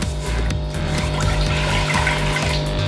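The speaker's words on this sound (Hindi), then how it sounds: "मैं 1 गिलास पानी डाल रही हूँ" A glass of water is poured into a pressure cooker sitting on a kitchen stove, a short liquid splash and trickle heard close up over a low steady hum.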